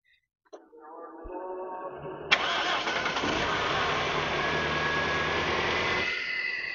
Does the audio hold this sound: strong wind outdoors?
no